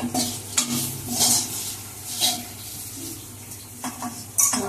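Bitter gourd frying in a pan for a Bengali shukto, a sizzle under repeated stirring scrapes and clinks of a utensil against the pan, close by, with a louder clatter near the end and no talking.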